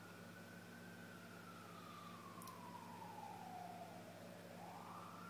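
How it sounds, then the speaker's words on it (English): An emergency vehicle siren wails far off, one faint, slow tone gliding down and then rising again over a steady low background hum, with no one speaking. "Can you guys hear that siren?"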